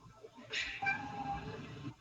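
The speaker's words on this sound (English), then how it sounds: "Sorry, that was my cat." A house cat gives one drawn-out meow, starting bright and sliding into a lower, wavering tone, close to the microphone with faint background noise.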